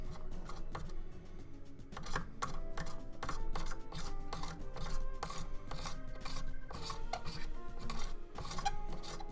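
A file rasping at the raised plastic logo on a Nerf blaster: a steady run of quick, dense scraping strokes, close and continuous, over faint background music with no talking.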